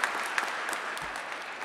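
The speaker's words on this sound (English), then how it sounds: "The expansion of rights to all Americans, that's worthy of applause." Audience applause at a Constitution Day naturalization ceremony at the National Archives, a steady wash of many hands clapping at moderate level, fairly even throughout with no voices.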